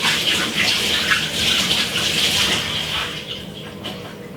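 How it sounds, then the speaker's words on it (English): Running tap water pours steadily while hands are washed under it, a close, continuous gushing splash that eases slightly toward the end, with no talk. "let's wash off my hand."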